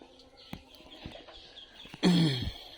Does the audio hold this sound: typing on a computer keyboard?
no